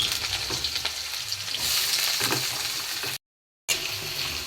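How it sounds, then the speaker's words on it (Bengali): Potatoes sizzle steadily in hot mustard oil with whole cumin, a dried red chili and a bay leaf, a close, continuous crackling that swells as they are stirred, broken by a brief silent gap. "আলুটা ভাজা হয়ে গেছে"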